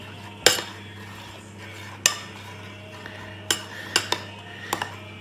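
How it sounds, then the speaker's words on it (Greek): A spoon clinks and scrapes against a bowl while syrup is stirred into melomakarona mixture, sharp metallic taps landing irregularly over a low kitchen hum. "Και παίρνουμε και λίγο από το σιρόπι μας και ρίχνουμε και το ανακατεύουμε"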